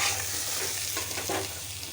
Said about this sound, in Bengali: 2 মিনিট ভেজে নিলাম। এটাও আমার ভাজা ভাজা হয়ে গেছে, লাল হয়ে গেছে।